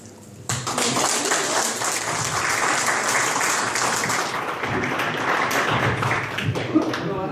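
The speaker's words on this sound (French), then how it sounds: "À l'applaudimètre, elle a fait fort." An audience at a village gathering in La Brigue bursts into loud, sustained applause that starts abruptly and keeps a full, even roar, with a few voices mixed in beneath the clapping.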